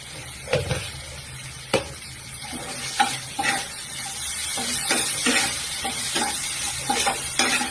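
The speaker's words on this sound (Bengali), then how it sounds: "মশলাটাকে খুব ভালোভাবে কষিয়ে নিতে হবে।" Spice masala with roasted cumin and coriander powder fries in oil in a pan for a vegetarian potato curry, giving a continuous sizzle broken by repeated scraping stir strokes at an irregular rhythm, close and with no talking.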